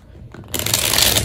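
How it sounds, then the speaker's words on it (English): Tarot cards being shuffled, quiet handling at first and then a loud, continuous riffling burst that runs to the end, close and alone. "So I'm going to go ahead and shuffle."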